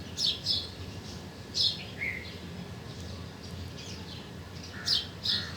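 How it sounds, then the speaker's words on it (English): Distant nightingale calls ring out in outdoor nature, a few bright, sweet chirps and short melodic phrases spaced apart over a soft background hush, with no one talking. "Here you can also hear in distant the sweet melodious calls of nightingale as well."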